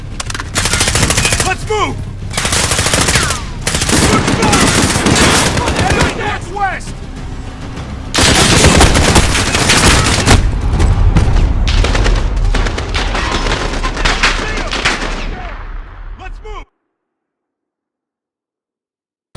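Loud, sustained machine gun fire from an MG nest during a Modern Warfare campaign battle, with rapid bursts and booming explosions that continue for about sixteen seconds before cutting to silence, and soldiers shouting throughout.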